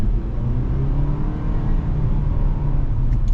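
A 2023 Nissan Sentra SR, front-wheel drive, pulls away on a test course with a steady, loud engine drone and road rumble that continue without a break and with no voices.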